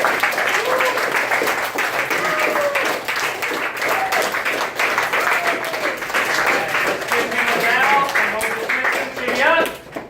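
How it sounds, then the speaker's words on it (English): Summer camp children applaud the mayor in a loose, uneven burst of clapping mixed with excited young voices and shouts, rising near the end. "let's give a big applause and thank you for"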